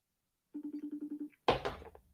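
A phone rings with a quick series of about nine evenly spaced electronic tones, followed by a sharp thump and rattle, in a quiet room.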